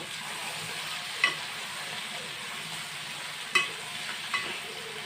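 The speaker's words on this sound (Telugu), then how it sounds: "మనకి చిక్కుడుకాయ ముక్కలు అలాగే ఉల్లిపాయ ముక్కలు అయితే బాగా ఫ్రై అయిపోయి" Broad bean and onion pieces frying in oil for a bean tomato curry, a faint, steady sizzle broken by a few soft stirring clinks.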